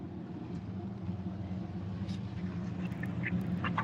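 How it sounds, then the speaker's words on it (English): A Chevrolet Chevette pulls into a route stop during a drag-and-drive event week, its engine a steady, continuous low rumble close by, with faint scattered chirps and noises above it. "Brian Anderson, the Chevette, pulling in."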